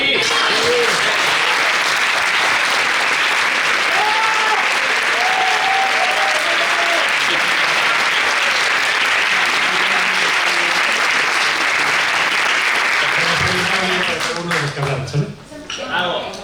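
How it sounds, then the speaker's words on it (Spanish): A theatre discussion audience applauds all the speakers together, a long, loud and steady wall of clapping with scattered voices, fading out near the end as people start talking. "¿Aplausos para todos?"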